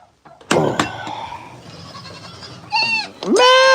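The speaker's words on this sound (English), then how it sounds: "I got to go feed the billy goats." Billy goats bleat loudly and close by at feeding time on a farm, a few sharp cries then two long wavering calls near the end, with a person speaking briefly among them.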